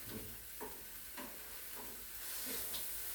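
Onions sauté in a pan for paneer bhurji, a soft steady sizzle broken by a few scraping stirs, close and fairly quiet with no talking.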